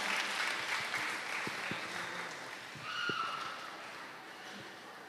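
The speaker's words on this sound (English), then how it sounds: "Once again, a round of applause to our graduates." A crowd claps for graduating seniors at a high school graduation, a broad, fairly loud wash of applause that swells slightly midway, then gradually thins and fades.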